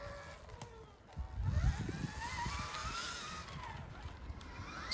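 Electric Stark Varg motorcycle ridden through snow, a rising whine climbing in pitch over a rushing, wind-buffeted rumble that holds steady and fairly close throughout.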